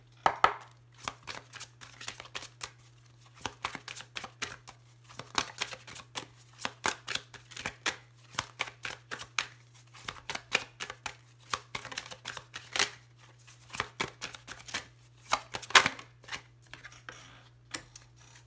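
Oracle cards are shuffled and drawn by hand in a quiet room, a long series of irregular soft papery taps and slaps over a low steady hum, with no talking.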